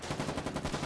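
Rapid gunfire in a video game sounds as a quick burst of repeated shots, muffled and fairly faint, with no talk.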